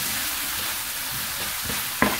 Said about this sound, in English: Give it a good stir to ensure that the egg is well cooked.